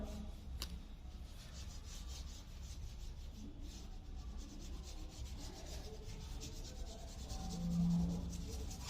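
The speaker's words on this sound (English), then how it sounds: "I am applying some turmeric on the paper." Quiet, continuous soft rubbing of turmeric being smeared across paper, close by and alone.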